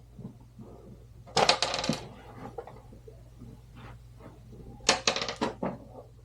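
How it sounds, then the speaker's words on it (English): Dice rolled for a Softball Showdown tabletop game clatter in two quick bursts, each a short rattling tumble of hard clicks on a table, close and distinct, with quiet pauses between. "we will roll the dice"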